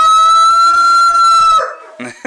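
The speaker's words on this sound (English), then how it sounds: "We got full-grown chickens." Full-grown chickens on a homestead: a loud, close, sustained crow fills most of the moment, then breaks off into a few short clucks.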